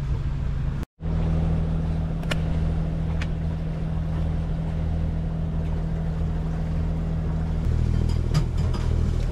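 A sailboat motoring at 6 knots out of Cartagena: a steady, droning engine hum runs continuously over faint water and wind noise, with a brief dropout near the start and a slight shift late on.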